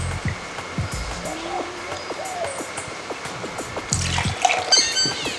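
Apple juice pours into a rum cocktail being mixed in a glass, a steady liquid trickle running for several seconds with light clinks and small handling sounds alongside.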